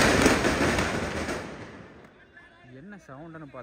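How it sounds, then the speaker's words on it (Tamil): Firecrackers go off near a local cricket league match, a loud crackling burst that fades over about two seconds before voices start talking. "என்ன சவுண்டுன்னு பார்த்தா அங்கே வெடி வெடிச்சிருக்காங்க."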